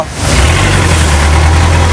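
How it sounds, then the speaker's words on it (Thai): A long-tail boat speeds along a river near Ko Kret, its engine roaring loud and close in a steady low drone with constant rushing noise and no talk. "ตอนนี้เรียกว่าเรือวิ่งเร็วครับ อยู่บนเรือหางยาว"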